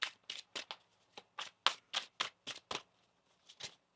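A deck of tarot cards being shuffled by hand, a quick series of crisp riffling and tapping bursts in an irregular rhythm, close and fairly quiet, with no talking.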